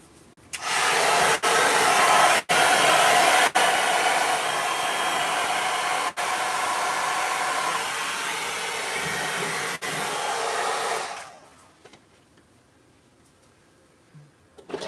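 A hair dryer blows hot air onto synthetic wig fibers, a loud steady whooshing roar with brief dips as it moves, running about eleven seconds before switching off into near quiet.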